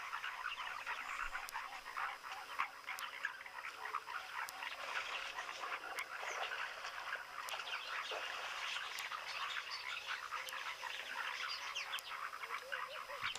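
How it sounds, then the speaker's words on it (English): A chorus of foam nest frogs at Mashatu calls in overlapping, rapid clicking and croaking notes, faint and distant, with occasional regular ticks and soft bird chirps in the quiet night background. "Great to hear these foam nest frogs as well. They really do make such a cool little sound."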